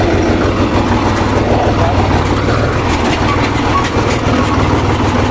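A tractor engine runs steadily and loudly up close, a dense low rumble with constant mechanical noise throughout, the machine stuck and being pulled out.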